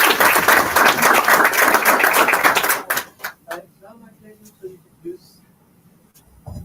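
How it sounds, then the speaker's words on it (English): Audience applause at the official launch of a college project, crisp dense clapping that fills the room for about three seconds, then thins to a few scattered claps and fades. "Another round of applause, please."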